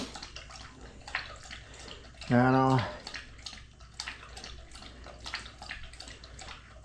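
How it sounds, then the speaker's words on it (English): A dog laps water from a bowl in a steady run of small wet splashes, with a person talking over it and a short squeaky tonal burst partway through. "Look at him, drinking all that water."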